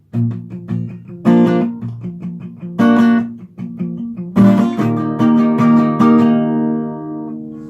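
Acoustic guitar chords, ending on an A, are strummed in a steady pattern with some muted, choppy strokes and a few full ringing strums, close and fairly loud with no talking.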